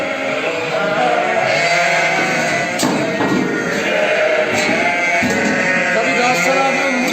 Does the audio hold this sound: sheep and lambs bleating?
yes